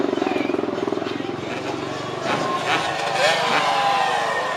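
Freestyle motocross bike engines at an FMX jam in 2011, loud revving and buzzing over a crowd and an excited announcer talking throughout, the pitch swelling and falling as the riders launch.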